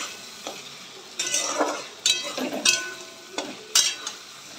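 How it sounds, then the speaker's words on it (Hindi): Potatoes frying with spices in a pan give a soft, constant sizzle, with a utensil stirring and scraping through them in several louder bursts spread unevenly; no talking. "तो फ्रेंड्स मसाले के साथ बहुत अच्छे से फ्राई कर रहे हैं पोटैटो को।"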